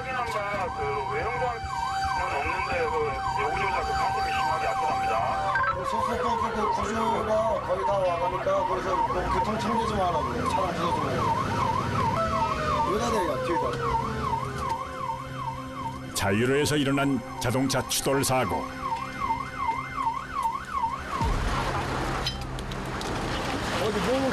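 A 119 rescue fire truck siren in Korea wails in rising and falling sweeps amid congested traffic, heading to a car collision, while a voice narrates and other people talk over it.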